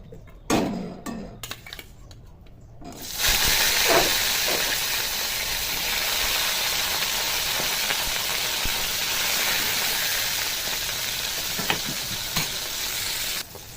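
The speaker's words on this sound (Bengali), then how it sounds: "তেলটা গরম হয়ে গেছে, মাছগুলো ভেজে নেব।" Fish frying in hot oil in a kadai for Bengali katla fish curry, a few clinks first, then a loud, steady hiss and sizzle that begins abruptly and carries on close up without speech.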